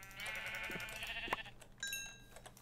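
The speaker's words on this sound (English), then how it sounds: "I hear another sheep." A single Minecraft sheep bleats in a wavering, nasal call, fairly faint, followed by a brief higher tonal chime.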